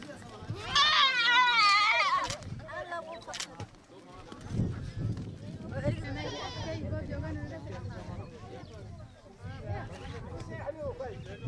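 Milk goats bleating in Kenya near Garissa, loud wavering cries up close at the start and again midway, mixed with children's voices and people talking in the background.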